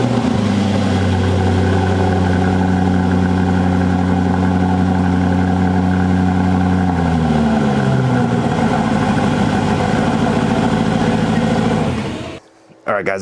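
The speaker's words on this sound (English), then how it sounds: "we're going to go ahead and get a cold start on the brand new DB12" A brand-new Aston Martin DB12 cold-starting and idling: a loud steady engine drone with a high fast idle that settles lower after several seconds, then abruptly cuts off near the end.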